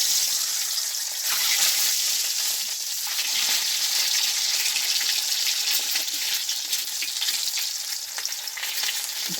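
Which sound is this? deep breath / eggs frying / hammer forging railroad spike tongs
eggs frying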